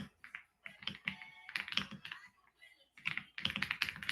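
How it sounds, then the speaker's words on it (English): Computer keyboard typing during a live crafting stream: quick, irregular bursts of key clicks, close and fairly clear, with short pauses between runs and no talking over them. "You hear me typing, sorry."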